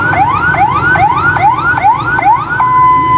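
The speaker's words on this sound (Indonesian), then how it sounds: "Dan kita melihat di sini ada satu unit mobil ambulans sepertinya akan masuk" An ambulance siren wails loud and near outside the Pertamina Dumai oil refinery, a rapidly repeating rising sweep that settles into a steady tone at the end.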